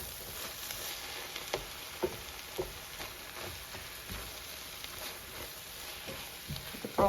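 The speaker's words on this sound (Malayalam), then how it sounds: "നമ്മളൊന്ന് വഴറ്റിയെടുക്കാം. അതിൽ കുറച്ച് തക്കാളിയും ഇടുകയാണ്." Tomatoes sautéing in a pan for a Kerala-style prawn roast, giving a steady sizzle with scattered soft pops and occasional stirring scrapes, heard up close with no talking.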